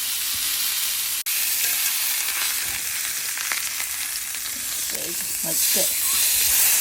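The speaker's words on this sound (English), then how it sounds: "Gonna sear this all around." A chuck roast sears in a hot cast iron pan, giving a steady, loud sizzle throughout with a few brief clatters as the meat is turned; a voice speaks briefly near the end.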